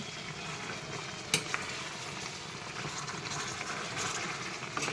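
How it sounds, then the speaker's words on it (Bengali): Meat being stirred and fried down in a pan for a mutton or chicken curry, with a soft continuous sizzle and occasional scraping clinks of the spoon, fairly quiet and close. "মাংসটা গুছিয়ে দেখি নাড়া দিয়া কিরম কষানো হইলো।"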